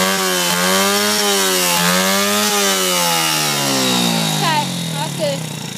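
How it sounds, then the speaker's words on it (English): A Yamaha TTR 90cc dirt bike engine revs up and down in repeated loud, close surges, its pitch rising and falling several times before easing off, with brief voices near the end. "Rev it up."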